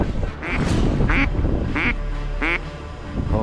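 Ducks quack repeatedly in bursts, about five calls, during a duck hunt at Paliastomi, Georgia, close and clear over a steady windy outdoor background.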